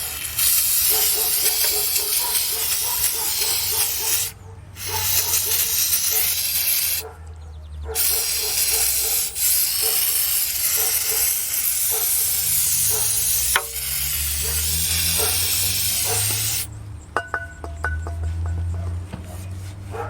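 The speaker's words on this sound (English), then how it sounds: "I'm going to finish this off with a little bit of brake parts cleaner." Brake parts cleaner sprays onto the oil pan of a 2011 Subaru Impreza. Loud, close aerosol hissing runs in long bursts, with a few short pauses between them.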